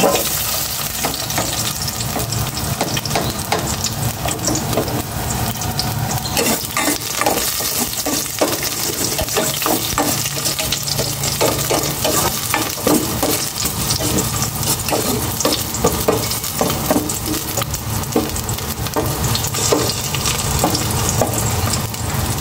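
Garlic frying in cooking oil in a pan for pork adobo, a loud, dense sizzle and crackle that never lets up, stirred with frequent clattering scrapes, close by and with no voices.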